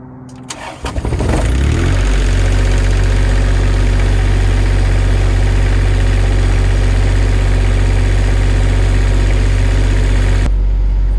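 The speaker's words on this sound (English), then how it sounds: "Hopefully it fires up good, and this time all the exhaust goes out the bottom." A newly installed diesel generator cranks briefly, catches and settles into a loud, steady low-pitched running drone that holds for about ten seconds before cutting off abruptly.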